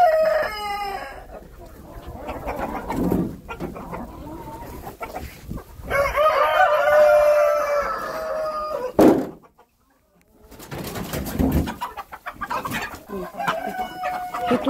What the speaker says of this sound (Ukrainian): Петушари.